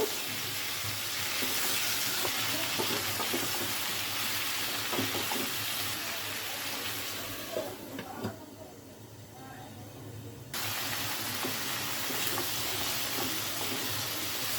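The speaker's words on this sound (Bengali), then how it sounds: "লাউ ভালো করে কষিয়ে নিতে হবে" Bottle gourd sautés in a pan with a continuous sizzle and intermittent stirring scrapes. The frying briefly drops away near the middle, then resumes, and a voice is faintly present.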